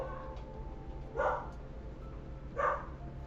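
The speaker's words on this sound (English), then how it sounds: "Bro, the dogs need to shut up." Two separate barks from dogs a fair way off, each short burst standing out faintly above a steady low hum and soft background music.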